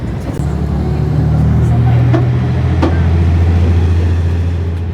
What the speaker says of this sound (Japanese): 今は小さくてもパワーのある機動車でスイスイ越えていきます